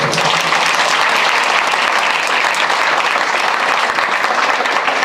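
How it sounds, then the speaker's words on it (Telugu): Audience applause at a public gathering addressed by an MLA in Adoni, a dense, loud, steady wash of many hands clapping throughout, with no talk over it. "దీనికి మీకు మీరే చప్పట్లు కొట్టుకోవాలి ఒకసారి"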